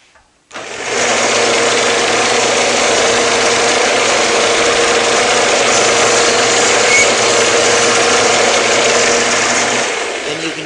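A Shopsmith drum sander runs at a steady, loud motor drone with a dense broadband hiss, starting abruptly after a brief quiet moment and holding evenly to the end.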